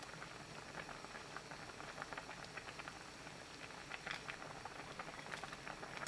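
Anchovy stew with fish sauce, soy sauce and sea salt bubbling in a pot, a faint continuous simmer with small popping bubbles throughout.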